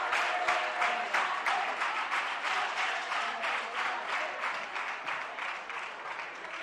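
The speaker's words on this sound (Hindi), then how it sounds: "जोरदार तालियों पर आदि जी के सम्मान में।" An audience at a religious gathering in Agra applauds steadily and loudly, with dense clapping that keeps an even, slightly rhythmic beat throughout and no speech over it.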